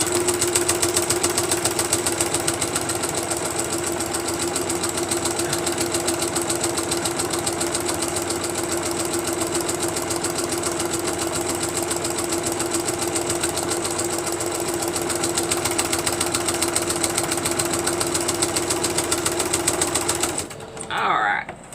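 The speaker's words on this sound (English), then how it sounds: "we're going to line that up with the needle, and we're going to sew down it" Applique fabric is sewn along a marked line on a sewing machine, which gives a loud, continuous mechanical hum with a fast needle rhythm for about twenty seconds, then stops abruptly at the end.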